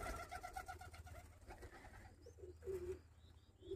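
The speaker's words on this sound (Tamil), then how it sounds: "இதெல்லாம் நம்ம புறா தான்." Pigeons coo in low, repeated throaty calls close by at a home coop, mixed with a few higher bird chirps; no one speaks.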